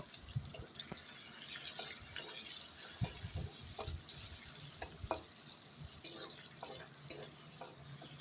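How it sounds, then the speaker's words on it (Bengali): Chili and five-spice tempering crackle faintly in hot oil as onions are readied for frying, for a masoor dal; quiet sizzling punctuated by scattered clinks and stirring knocks, no speech. "আমি লঙ্কা পাঁচফোড়ন দিয়ে দিলাম এখন পেঁয়াজ দিয়ে দেব"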